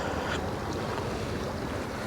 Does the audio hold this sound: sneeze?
no